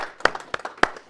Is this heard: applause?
yes